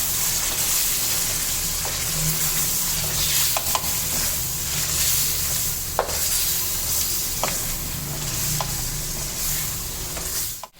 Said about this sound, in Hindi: इसी तरह तेज़ आंच पे थोड़ी इसकी भुनाई करनी है हमें